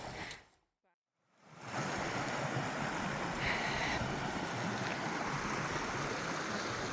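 Creek water rushing steadily and close during a wade across French Creek on foot along the Centennial Trail, after a brief near-silent gap at the start.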